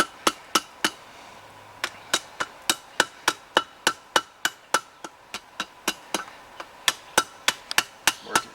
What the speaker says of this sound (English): I like to use my little 2-pound finishing hammer for this